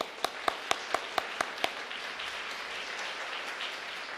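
During a Sunday church service, a congregation claps: several sharp, evenly spaced claps ring out first, then give way to softer, diffuse applause that carries on to the end.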